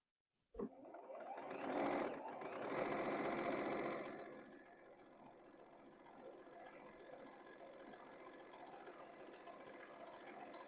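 Sewing machine stitching a quilted sweatshirt sleeve: a sharp start, then a loud whirring run of about three seconds, easing into a quieter, steady mechanical hum that continues to the end, no voices.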